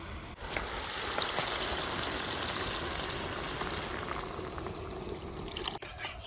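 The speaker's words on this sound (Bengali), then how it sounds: "আমি একটু বেশি পরিমাণে জল দিয়ে দিলাম" Water poured steadily into a pot of rice, lentils, mixed vegetables, cumin and green chillies for vegetable khichuri, a continuous close rushing splash with no talk.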